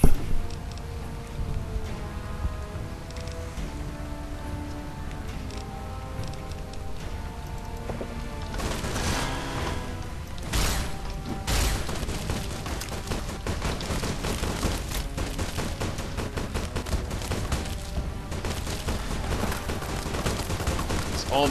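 Sniper rifles fire in the video game Fallout: New Vegas, sharp gunshots cracking amid a busy, continuous game soundscape of music and effects, with a denser burst of shots in the second half.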